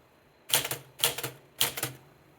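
Typewriter carriage shift cycled three times after cleaning out a sticking key, each shift a sharp mechanical clack with a short rattling tail, evenly spaced about half a second apart, close and alone.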